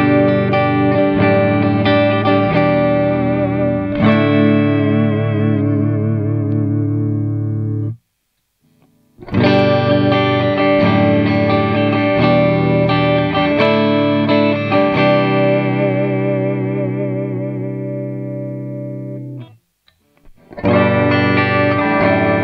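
A rewired electric guitar plays in a clean tone during a sound check, sounding sustained ringing chords that decay slowly, with brief silent gaps between phrases, loud and close.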